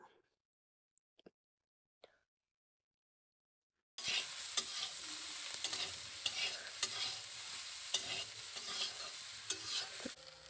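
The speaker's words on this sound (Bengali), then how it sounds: "এবার সয়াবিনগুলোকে ভালো করে নেড়ে চেড়ে ভেজে নেব" Large soybean chunks fry in hot oil while being stirred, giving a steady close sizzle broken by regular scraping and clinking strokes of the spatula. A few faint clicks come first, before the frying begins.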